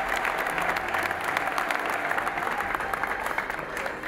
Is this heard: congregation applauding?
yes